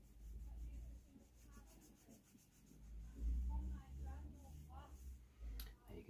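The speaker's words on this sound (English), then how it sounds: "we'll apply some neutral polish and give that a really good buff and shine" Neutral polish being buffed onto the leather midsole edge of a decades-old Timberland boot with Vibram rubber units, a steady close rubbing and brushing sound with rhythmic strokes and some louder bursts.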